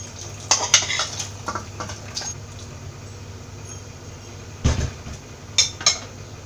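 Cooked breadfruit (kadachakka) being stirred into boiling curry in a pot, giving a few sharp metallic clinks and scrapes of a spoon against the pot, with soft bubbling and faint background noise between the strokes.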